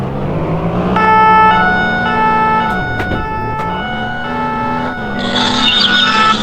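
A car driving in the Roblox game, a steady synthetic engine drone that dips and rises in pitch alongside sustained siren-like tones, loud and continuous with no talk.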